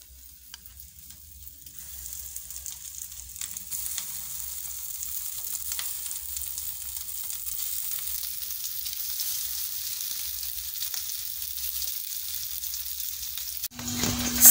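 Meatballs frying in a pan, a steady crackling sizzle that builds and holds throughout, close and without talk, ending in a brief clunk.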